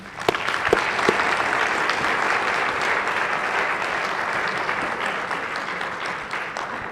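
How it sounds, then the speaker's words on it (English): Sustained applause fills a Senate gallery for three court officials, steady and fairly loud throughout with a few sharper claps early on, no talking over it. "how about a round of applause for those three?"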